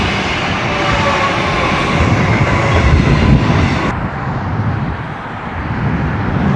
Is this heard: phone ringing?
no